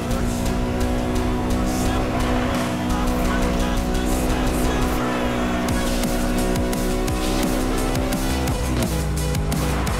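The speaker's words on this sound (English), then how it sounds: "This car engine sounds really nice too." McLaren MP4-12C supercar engine in the racing game Need for Speed: Most Wanted (2012), a loud continuous smooth engine drone with shifting revs, tire squeal and game music layered over it throughout.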